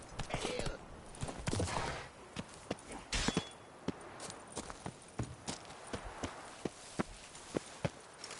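Horse hooves clopping in The Witcher 3, a steady run of sharp, evenly spaced hoof strikes at moderate distance, with talk over the opening seconds.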